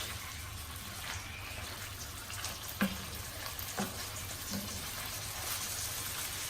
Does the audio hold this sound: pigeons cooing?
no